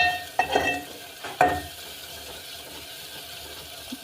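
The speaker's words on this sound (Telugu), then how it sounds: "రొయ్యలు మంచిగా ఫ్రై అయ్యాయి" Prawns frying in a pan are stirred twice in quick succession, each a short scraping rustle, before a low, steady sizzle carries on alone.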